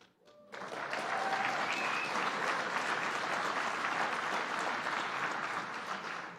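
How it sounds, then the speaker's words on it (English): An audience of mayors at a conference bursts into sustained applause after a brief quiet moment, a dense steady clapping that fades slightly at the end. "And thank you, Mayor Bowser, for leading the clap."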